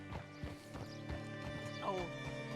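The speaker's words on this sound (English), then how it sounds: "Hitch your horse up here." Horse hooves clip-clop steadily in Red Dead Redemption 2 as a rider arrives in the town of Rhodes, the regular thuds close and clear over a busy ambient bed with a brief whinny-like rise near the end.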